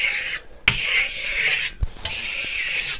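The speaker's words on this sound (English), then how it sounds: "I'm also adding a little bit more pressure on the trowel." A steel trowel scrapes steadily across a Venetian plaster top coat under firm pressure, a continuous close rasping hiss broken by two brief pauses and a couple of soft knocks.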